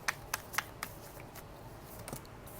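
Tarot cards being shuffled and pulled from the deck, several crisp papery flicks and snaps in quick succession followed by softer card slides, close and fairly quiet, with no voice.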